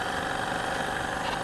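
Small Chinese steam engine driving a little propeller, fed by a homemade boiler, running fast in a continuous buzzing hum, steady and close with no talk.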